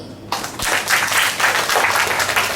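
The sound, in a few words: audience applause after a speech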